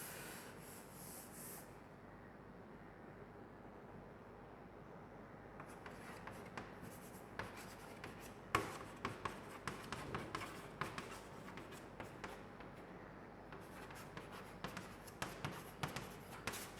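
Chalk or marker scratches and taps on a board during a chemistry lecture, a series of short irregular strokes over a low room hum, fairly faint and without talking.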